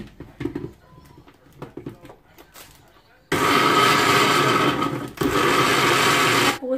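A kitchen blender whirs loudly while blending apple with vinegar, starting abruptly after quieter talk and clatter, running steadily, pausing briefly, then resuming.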